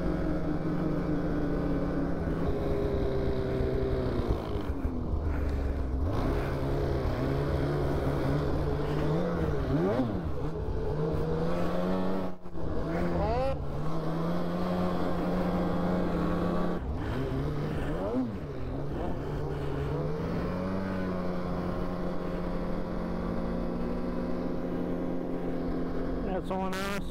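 A Polaris 9R snowmobile being broken in while riding trails near Duluth, Minnesota, its engine droning steadily close by with wavering pitch as it speeds up and eases off, with people talking over it at times.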